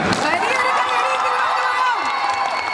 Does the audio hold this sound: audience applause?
yes